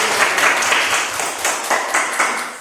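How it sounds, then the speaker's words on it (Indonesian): A small group of students in a classroom gives a short round of applause, with close, uneven clapping that rises and falls in scattered bursts. "Ya, tepuk tangan."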